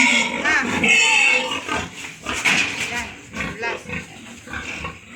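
A mother pig on a farm gives repeated close, throaty grunts and snorts while a person talks over them.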